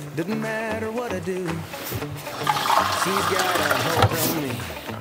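Water pours steadily into a pot of beef stew with a rushing, splashing sound after a stretch of talking, and a voice continues over it.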